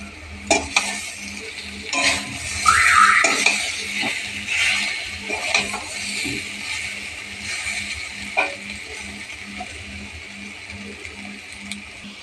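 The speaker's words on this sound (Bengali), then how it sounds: "আর একটু ভেজে নিচ্ছি একটু আদা বাটা" Ginger paste frying in a pan for a coconut prawn curry, giving a steady close sizzle broken by scraping stirs and a few brief clinks of a utensil against the pan.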